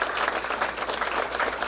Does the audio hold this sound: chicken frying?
no